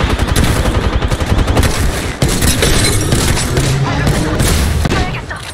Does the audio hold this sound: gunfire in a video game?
yes